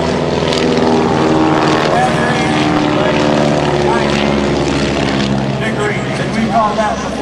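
Loud, continuous drone of a propeller stunt plane engine in flight at an air show, steady and close throughout, with a faint voice underneath.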